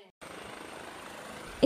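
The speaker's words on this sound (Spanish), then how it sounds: "Estas imágenes reflejan el momento en que era rescatado por un helicóptero" Rescue helicopter in the French Alps during an evacuation, a steady rotor thrum and whine holding evenly after a short silence, ending in a brief louder burst.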